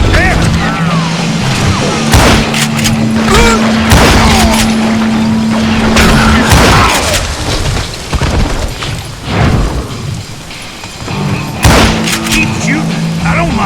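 Gunfire and heavy booming shots in the Western shooter Call of Juarez: Gunslinger, dense and loud throughout, with a steady music drone and spoken dialogue running over the shooting.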